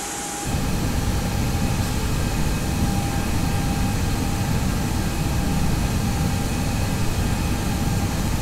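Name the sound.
Airbus A320 with Pratt & Whitney PW1000G engines, cabin sound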